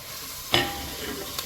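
Tomato hits softened onions frying in a pan for crab gravy, causing a sudden sharp burst of sizzling over a steady crackle, then another brief flare.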